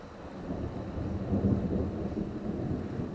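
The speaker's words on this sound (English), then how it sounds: "it's still thundering" Low rolling thunder rumbles through a severe thunderstorm, swelling mid-way and fading, with faint rain hiss underneath and no voices.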